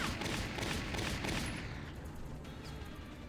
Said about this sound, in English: if the computer's smart, they'll just keep firing